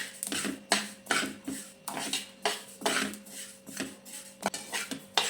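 Sesame seeds roast in a pan while a spoon stirs them constantly, giving a rhythmic run of close scraping and rattling strokes, about two per second, with no talking.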